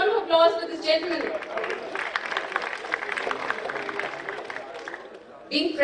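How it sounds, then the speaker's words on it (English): Award ceremony audience applauding, a dense burst of clapping lasting several seconds, with a voice speaking briefly before and after. "Let's have a huge round of applause for this gentleman."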